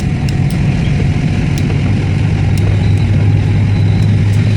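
A motorcycle riding on a rough, noisy road, heard as a loud, continuous engine and road rumble close by, with no talking over it.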